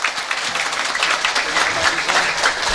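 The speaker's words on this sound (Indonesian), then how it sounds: "tepuk tangan dulu dong" A crowd at a mosque-hosted Islamic pengajian gathering claps loudly and continuously, dense close applause with an uneven, flickering texture throughout.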